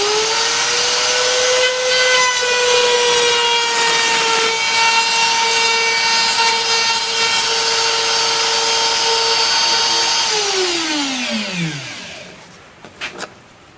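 KMG guitar binding machine routing a binding channel, a loud sustained high whine of the cutter running steadily before winding down in pitch, followed by a few faint clicks.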